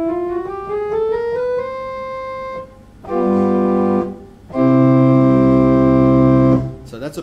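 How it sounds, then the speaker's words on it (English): A pipe organ's principal 8-foot rank sounds sustained tones with a clear, bright, full timbre, moving through several held notes and chords, loud and steady with brief gaps between phrases. "The principal 8-foot sounds like this."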